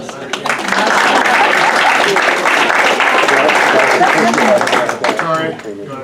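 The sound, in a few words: audience applause at a board meeting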